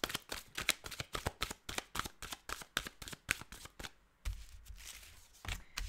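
A deck of tarot cards being shuffled close up, a rapid riffle of crisp flicking snaps for about four seconds, then softer rustling as the cards settle.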